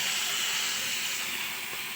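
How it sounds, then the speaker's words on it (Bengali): Spice paste hitting hot oil and fried potatoes in a pan, a loud steady broadband sizzle that holds for a couple of seconds without a break. "এখন মশলাটা দিয়ে দেব"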